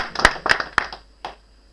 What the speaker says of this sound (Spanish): Bríndele un aplauso fuerte a Jesús esta mañana